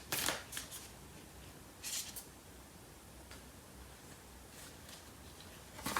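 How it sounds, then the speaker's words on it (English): Cards from a Lovers Oracle deck being shuffled and pulled in a few short, soft riffling bursts separated by quiet pauses, close by and without speech. "I'm going to pull out a card from the Lovers Oracle deck."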